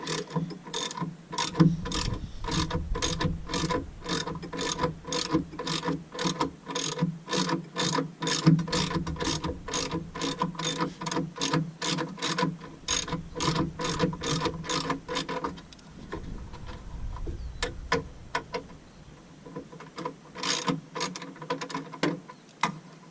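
A ratchet clicks rapidly and rhythmically while tight screws are worked loose on a radiator mount of an X300 Jaguar XJ6, close and steady, pausing briefly before a few final clicks.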